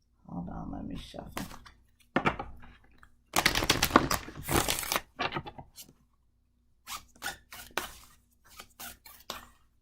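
A Spirit Message Animal card deck shuffled by hand, quiet papery riffles and soft clicking bursts that come and go with short gaps, close by, with someone talking in between.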